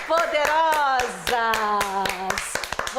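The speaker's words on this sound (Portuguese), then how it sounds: "aplaudir as mulheres" Sharp, rhythmic hand claps applauding women, ringing out over a loud voice or music that carries through the whole stretch.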